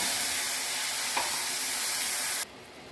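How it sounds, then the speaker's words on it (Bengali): A spice paste of cumin, salt, sugar and turmeric frying in a kadai gives off a loud, dense, steady sizzle that cuts off abruptly near the end, with no talking. "এর মধ্যে আমি হলুদ অ্যাড করে দিলাম, দিয়ে এই মশলাটাকে ভালো করে কষাবো"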